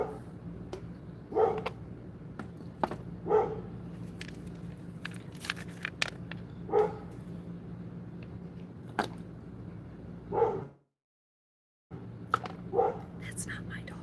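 A neighbour's dog in an RV park barks in faint, distant single yips scattered every few seconds over a quiet background.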